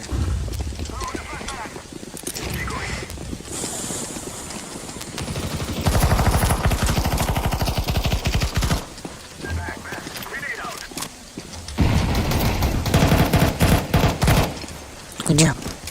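Rifle fire in a video game, coming in loud rapid bursts that start and stop across the clip while people talk.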